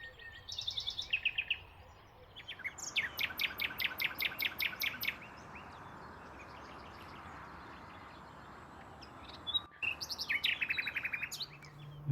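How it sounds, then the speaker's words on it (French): Common nightingale singing outdoors at golden hour, loud close bursts of rapid repeated whistles and trills in phrases separated by pauses, over a steady background hiss of insects. "L'oiseau que vous entendez juste derrière moi là, c'est un rossignol philomèle."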